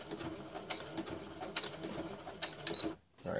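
A sewing machine stitching a leather wallet, a steady run of soft rhythmic mechanical thumps with brief pauses, fairly quiet and close.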